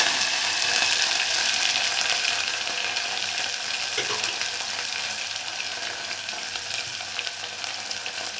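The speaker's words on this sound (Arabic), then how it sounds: "هننزل بالبصلة والفلفل قطعنهم شرايح كده." Sliced onion and peppers fry in a pan with a dense, steady sizzle, heard close, with light stirring scrapes and clicks over the crackling, gradually easing slightly in loudness.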